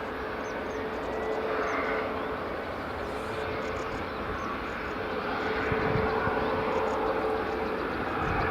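An Air Canada airliner at Edinburgh Airport near runway 24, a loud continuous jet engine roar and rumble holding steady and close throughout, with no talk over it.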